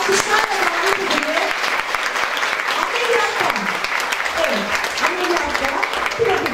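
Steady applause fills a hospital anniversary ceremony hall, loud and continuous, while a presenter speaks over the clapping.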